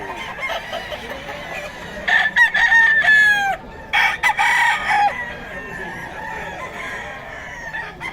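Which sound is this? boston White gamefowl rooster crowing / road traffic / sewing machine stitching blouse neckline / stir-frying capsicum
boston White gamefowl rooster crowing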